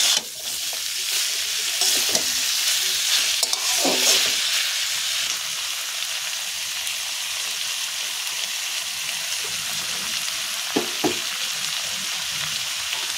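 Pre-fried prawns get stirred into softened pointed gourd tips in a cooking pan, a continuous hissing sizzle with several louder scraping knocks of the spoon, near and without talk.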